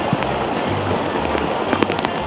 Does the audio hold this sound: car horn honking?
no